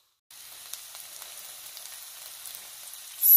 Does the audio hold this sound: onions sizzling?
yes